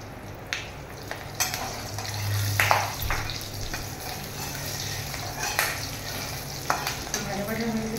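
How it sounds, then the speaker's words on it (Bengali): Whole cardamom, cloves, cinnamon and green chilies fry in hot oil for a Bengali vegetarian curry, giving a steady soft sizzle with intermittent stirring scrapes and clinks in the pan. "ফোড়নটা আমি এলাচ লবঙ্গ দারচিনিটা দিলাম। ফোড়নটা ভাজা ভাজা হয়ে গেছে আমার"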